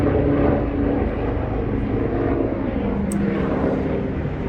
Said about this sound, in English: Look at this helicopter.